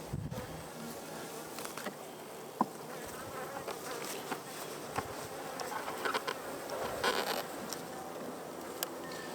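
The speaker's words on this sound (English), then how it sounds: "So you hear the bees getting agitated." Agitated honey bees buzzing in an opened hive in cold early-season weather, a dense, continuous drone of many insects close by with occasional louder passes and light tapping of frames.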